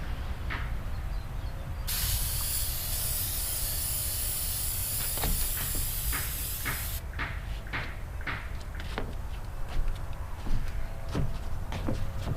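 Aerosol sealant sprayed onto a prop sword blade in a loud, close hiss lasting about five seconds, followed by quieter clicks and handling knocks.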